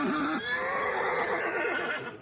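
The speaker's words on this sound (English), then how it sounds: "Horses will start to make a loud sound if you get too close." A horse in the video game Hunt: Showdown lets out a loud, drawn-out whinny that wavers in pitch, close and alone over steady ambient background noise.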